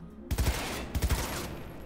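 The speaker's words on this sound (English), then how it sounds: "Oh, it's burst fire." Burst-fire rifle in the video game Cyberpunk 2077, two quick three-round bursts about half a second apart, loud and close, each shot a heavy thump with a washy tail.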